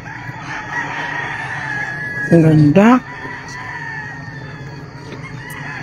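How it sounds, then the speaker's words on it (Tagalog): At a farm crowded with chickens, a rooster gives a single loud crow midway, rising sharply over continuous background clucking and chatter, with a person speaking briefly. "Dami manok."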